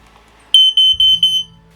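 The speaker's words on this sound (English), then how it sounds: "This is fire alarm number 2. It's also made by Kidde" A Kidde smoke and fire alarm sounds during a test, giving a loud, shrill electronic tone in four short pulsed blasts, close to the microphone, with a low thump of handling underneath.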